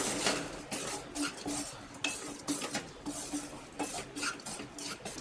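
A spoon scrapes and knocks against a pan while a besan mixture with chopped tomatoes is stirred, making rapid, close clinks and scraping strokes in an irregular rhythm with a faint sizzle underneath.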